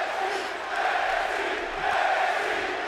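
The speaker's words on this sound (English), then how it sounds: "Why are they cheering for Tennessee?" Crowd at an independent women's wrestling event, a steady roar of cheering and shouting that fills the space evenly and swells slightly midway, with no single voice standing out.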